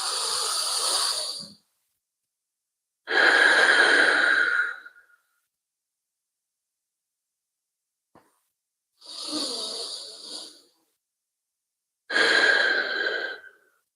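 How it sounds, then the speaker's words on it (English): Slow, deep breaths through the nose in a yoga-style breathing exercise. Four long, airy, hissing breaths come close up, separated by silent pauses. "We're going to be breathing to it in through the nose diaphragmatically."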